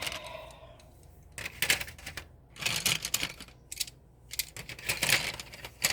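Several bursts of light clattering and rattling as pencils drop and tumble onto a hard surface, with short quiet pauses between.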